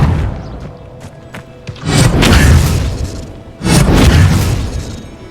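The Expelliarmus spell is cast in the video game Hogwarts Legacy as two loud, booming magical bursts a couple of seconds apart, each a heavy whooshing blast that swells and trails off, with no talking.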